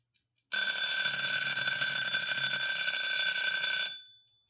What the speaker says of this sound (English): listen to the ring on this timer. It's a nice loud ring.